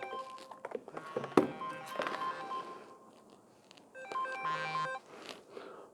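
A mobile phone's ringtone plays a bright repeating melody, quiet and slightly distant, mixed with room knocks and shuffling in an indoor class.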